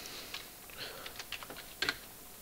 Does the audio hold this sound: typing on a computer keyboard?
yes